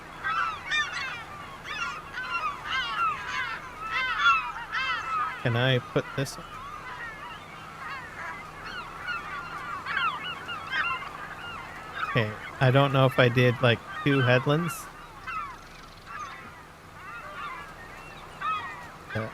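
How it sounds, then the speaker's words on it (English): Seagulls squawk repeatedly in the Farming Simulator 25 game, their shrill calls coming in bursts over a low engine drone while someone talks. "Man, those gulls are really annoying."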